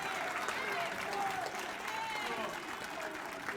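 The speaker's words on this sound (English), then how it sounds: "Please give him a round of applause." An audience applauds steadily at a City of Newark ceremony honoring featherweight boxing champion Shakur Stevenson, a dense, sustained clapping with crowd voices mixed in.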